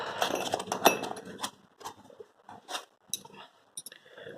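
Metal Allen keys from a motorcycle mirror kit clink and rattle as they are handled, giving a close burst of jangling at first and then a few sparse, separate light clicks and taps.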